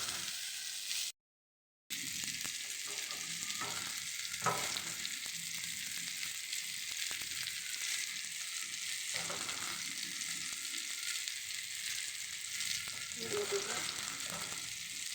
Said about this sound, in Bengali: মরিচ পেঁয়াজ দিয়ে আর একটু ভাজ তারপরে